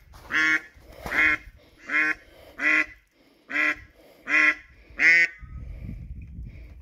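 Ducks out on their first walk give seven loud, evenly spaced nasal quacks, each close and distinct, followed by soft low rustling.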